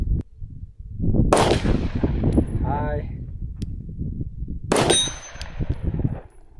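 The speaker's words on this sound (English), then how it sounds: "Let's see if we can hit the plate from about 25 yards." Glock 45 pistol with stock iron sights fired at a steel plate 25 yards away: two sharp, loud shots, the second followed by a bright metallic ring as the plate is struck, with a brief voice in between.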